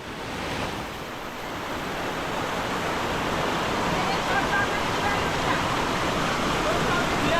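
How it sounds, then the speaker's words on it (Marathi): Rainwater from the first monsoon downpour rushing and flowing outdoors, a dense, continuous broadband roar that swells slightly and stays loud throughout, with no clear voices over it. "तो बघा पहिल्याच पावसाचा पाणी बघा"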